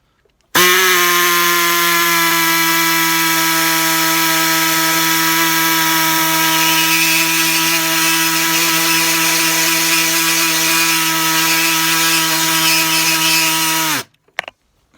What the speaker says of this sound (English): we've cut the head off this screw with the reciprocating saw